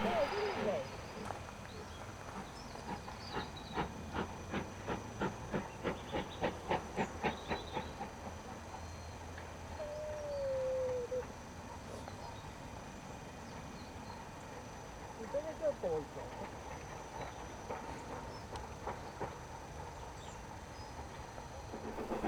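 A steam locomotive chuffs in a quick regular rhythm that slows and stops at Horsted Keynes station on the Bluebell Railway, followed by hissing steam and distant clanks of the train moving on.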